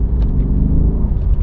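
Mercedes S550 Convertible engine accelerating from inside the cabin, a steady low rumble that holds loud and even throughout with no speech over it.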